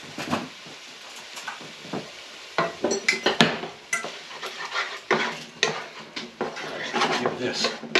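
Pork being stirred and coated in homemade enchilada sauce in a pan, with a utensil scraping and clanking against the metal in irregular bursts over a soft sizzle, close up.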